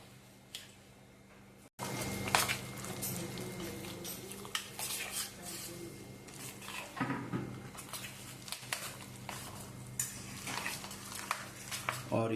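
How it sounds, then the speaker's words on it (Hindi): Urad dal and white pumpkin batter being stirred with a spoon in a pot, giving soft wet squishing and scraping with occasional clinks of metal against the pot, close by. "इसको अच्छे से मिक्स करेंगे।"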